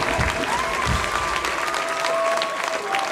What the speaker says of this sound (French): j'aimerais bien quand même qu'il y ait un tonnerre d'applaudissements pour cette dame